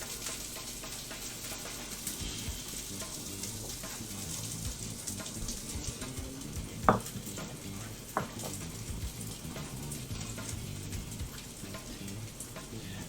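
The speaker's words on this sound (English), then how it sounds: "Throw our peppers and onions in the pan back here." Peppers and onions fry in a pan with a steady, hissing sizzle throughout, broken by a couple of brief knocks or scrapes partway through.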